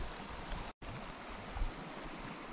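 A mountain creek flows steadily along a bike-touring route, a continuous broadband rush of water at moderate level with a brief dropout partway through, no voices.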